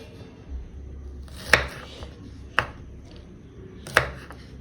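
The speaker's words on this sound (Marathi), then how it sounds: "आता पुढच्या दोन्ही प्रकारासाठी भेंडी आपण उभी चिरायची तर मी दाखवते तुम्हाला आता ही कशी चिरायची ते हे बघा" Okra sliced lengthwise with a knife on a board, three sharp, distinct chopping knocks spaced about a second apart against a quiet background.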